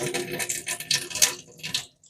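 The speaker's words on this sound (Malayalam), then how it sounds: "ആ വെള്ളമൊക്കെ വെറുതെ പോണ കണ്ടില്ലേ?" Water from a kitchen tap splashes into a sink during dishwashing, a close, uneven rushing and spattering that fades out near the end.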